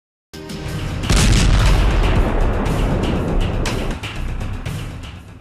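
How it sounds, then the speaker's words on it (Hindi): A heavy explosion bursts in with a deep, rolling boom that sustains and rumbles for several seconds, loud and close, with crackling debris. "पहला धमाका,"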